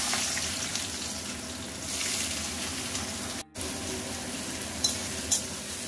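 Large chopped onions fry in a kadai for chicken rosha, giving off a steady, moderately quiet sizzle that runs throughout with only a brief drop in the middle.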